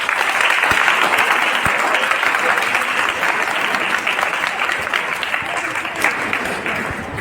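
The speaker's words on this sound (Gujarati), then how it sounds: "આટલી બધી તાળી પાડવા બદલ આભાર" Students applauding at a school awareness seminar in a high school hall, a dense, loud, sustained clapping from a large crowd that continues throughout with only a slight fade.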